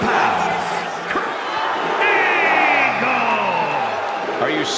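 A wrestling arena crowd chants in unison before a Kurt Angle match, a loud sustained wall of many voices singing together with rising and falling tones, filling the whole moment.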